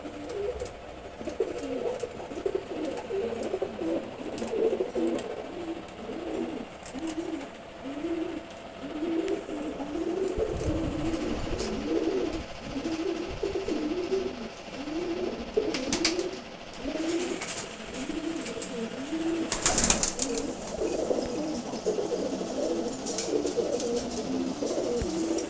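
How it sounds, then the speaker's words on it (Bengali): A Giribaz pigeon of good bloodline coos in a steady, repeated rhythm, close and fairly loud, with brief handling noise in the background and no talk. "খুবই ভালো ব্লাড লাইনের একটা গিরিবাজ কবুতর"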